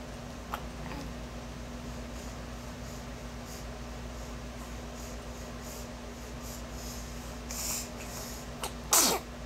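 A single sharp sneeze bursts out near the end, preceded by a softer one, over a steady hum of background noise with no talking.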